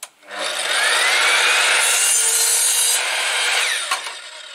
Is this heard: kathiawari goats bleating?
no